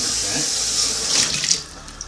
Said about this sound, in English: what we're going to do is we're going to get rid of this water